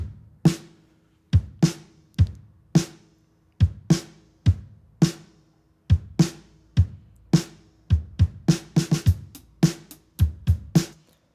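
Sparse drum kit beats, recorded with a snare mic and an overhead, ring out in a dry room, with thumping kick and sharp snare hits spaced irregularly, then a quicker flurry near the end.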